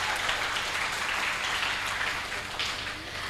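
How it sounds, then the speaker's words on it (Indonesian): Thunderous applause rises from the audience at a special film screening and discussion event, a dense, steady wash of many hands clapping at once, alone and fairly loud throughout. "Coba beri tepukan yang gemuruh untuk kita semua."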